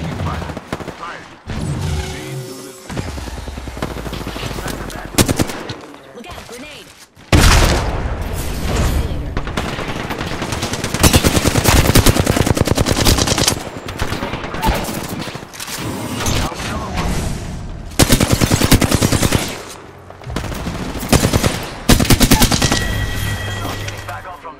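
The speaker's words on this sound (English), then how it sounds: "I am taking fire." Loud bursts of automatic gunfire and booms in an Apex Legends Season 13 match, playing as Valkyrie, come in dense waves with short gaps, and in-game voice lines sound over the shooting.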